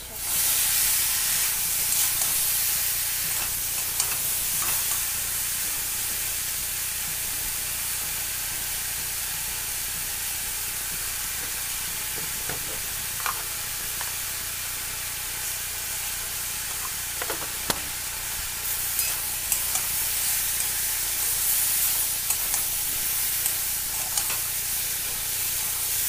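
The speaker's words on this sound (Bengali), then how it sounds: "এবার এই সবজিগুলো দিয়ে দিচ্ছি সব।" Vegetables fry in a pan with a steady, close hiss and sizzle that runs throughout, broken by faint clicks and scrapes of stirring.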